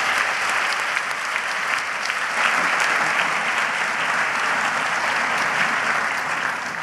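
Steady, full applause from a large audience at a Legal Aid annual event, honoring a string quartet and a student chorus from Cleveland, sustained evenly for several seconds with no voices over it.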